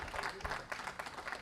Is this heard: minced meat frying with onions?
no